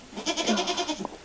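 A goat bleats repeatedly on a farm around kidding time, a close, wavering run of pulsed cries with one short call at the end, heard alone.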